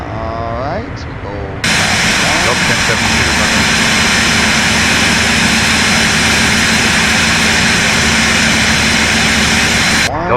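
Jet engine spool-up from a Phenom 300E in a flight simulator, a steady loud whine and rumble that jumps in abruptly and holds evenly, with a voice talking briefly before it starts.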